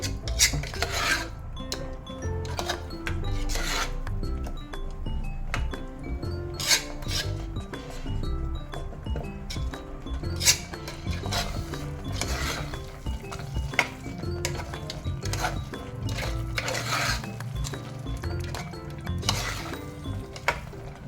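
Jackfruit seeds fry in a pan on high flame for gravy, with steady scraping and rasping of a spoon stirring against the metal, occasional clinks, quiet and close with no talk.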